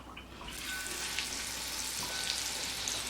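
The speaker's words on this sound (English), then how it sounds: "fry them up in this bacon grease." Pork chops frying in bacon grease, a soft steady sizzle that builds after a quiet start and continues evenly, moderately faint with light crackles.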